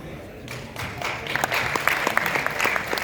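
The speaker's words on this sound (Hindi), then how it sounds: "जोरदार तालियां" Applause from an audience builds into a dense, steady clapping that carries on loudly throughout.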